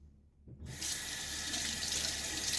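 A faucet during a wet shave is turned on after a short quiet moment and runs steadily into the sink with a bright, close hiss of splashing water.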